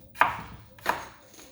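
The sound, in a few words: knife dicing garlic on a cutting board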